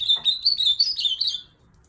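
A female ultramarine grosbeak sings a quick, warbling string of high chirping notes up close, then stops abruptly.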